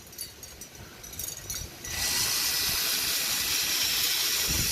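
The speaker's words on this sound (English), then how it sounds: "Remember, let the drill do all the work." Power drill boring into a broken, stripped lug nut on a windy day in Minnesota, a steady loud whir from about two seconds onward over rushing wind noise, following a rougher, uneven start.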